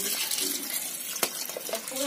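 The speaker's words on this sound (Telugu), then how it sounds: "మనకు కావాల్సినంత వాటర్ పోసుకొని తర్వాత మిక్స్ చేస్తే అయిపోతుంది" Water poured from a vessel into a cooking mixture in a village kitchen gives a steady, fairly faint splashing hiss for about two seconds, with one brief sharp knock midway.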